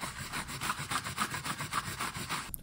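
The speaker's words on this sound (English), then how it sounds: "just take some sandpaper and just do some really light sanding" Sandpaper lightly sanding drywall repair putty on a wall, a steady rhythmic back-and-forth rubbing of about a dozen quick strokes, close and alone.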